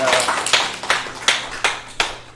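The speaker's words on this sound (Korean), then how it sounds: "우리 주님께 영광의 박수 올립니다." A church congregation at a Sunday service claps together, each clap landing in a row at a steady, moderate pace, fairly close and clear with quiet pauses in between.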